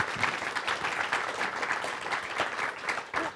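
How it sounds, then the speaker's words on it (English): Studio audience applause on a television talk show, a dense, steady wash of many hands clapping at close range, sustained without pause and with no voices over it. "Give him a round of applause"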